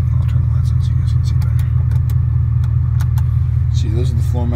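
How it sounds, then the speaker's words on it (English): A 2001 BMW 540i with a 6-speed gearbox idles with a steady, loud, low drone heard from inside the car. A brief voice comes in near the end. "it seems to be idling just fine now"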